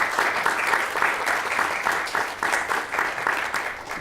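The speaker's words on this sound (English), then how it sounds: "a little round of applause for all those people" Audience applause fills a keynote address room at Emory in Atlanta, a dense, steady wash of many hands clapping at close range, holding its level throughout with no speech over it.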